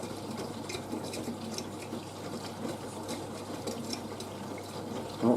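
A V-Zug Adora SLQ washing machine on a Sprint/Sport 40°C program draws water for its first rinse: a steady, fairly faint rush of inflowing water with a low mechanical hum, with no talking.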